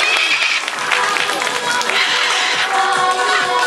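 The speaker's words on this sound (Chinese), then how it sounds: "请给康康掌声鼓励" Audience at an animal theatre show on an eco farm applauding a performing animal, a loud wash of clapping and crowd noise that holds steady throughout, with no clear talk.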